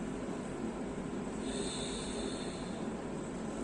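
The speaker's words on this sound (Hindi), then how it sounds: "इस तरह से जब हम सांस लेते हैं तो आवाज आती है, सांसों की आवाज को हम सुन सकते हैं" Slow, steady ujjayi breathing drawn through a constricted throat, a soft hissing rasp that continues evenly, close and quiet.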